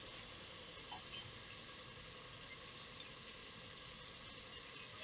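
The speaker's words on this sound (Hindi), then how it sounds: "इसे 2 मिनट हम भूनने देंगे। थोड़ा हमारा मसाला जो डाला है हमने वो अच्छे से पक जाए।" Potatoes with spices fry steadily in a pan for a dry aloo sabzi, giving a faint, continuous sizzle with small crackles and pops scattered through it.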